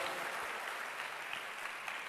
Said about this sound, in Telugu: నమ్మిన వారు గట్టిగా చప్పట్లు కొట్టి దేవుని మహిమపరచండి.